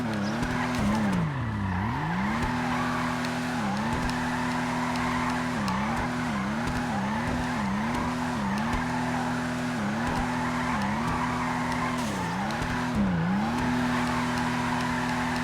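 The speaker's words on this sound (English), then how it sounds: "it's definitely drifting. And it's drifting quite well" A Vulcar Nebula Turbo car drifting in GTA Online, steady engine drone with repeated dips and rises in revs as it slides, tire squeal running through, no voices.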